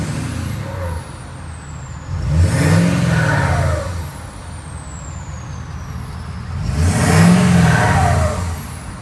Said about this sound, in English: Oh yeah, the sound of a kick-ass Ford, guys. So listen to it, ready? Full 4-inch exhaust.